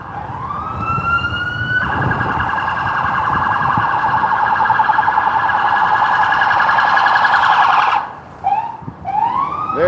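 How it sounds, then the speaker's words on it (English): A police laser siren on a Chicago Loop street rises and then holds a loud, steady electronic wail for several seconds, breaking off into short rising whoops at the end. "We've been zapped by the laser siren."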